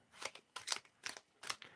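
Tarot cards being shuffled by hand, giving four quick riffling, rustling bursts in steady rhythm, faint and close with no talking.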